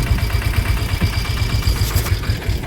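A farm tractor's diesel engine running, refueled before a trip to the fields, with a loud, steady low throb and rapid rhythmic pulsing close by and no voices.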